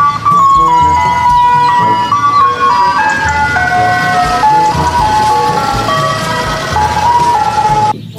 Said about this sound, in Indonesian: Yang ini ada mobil es krim.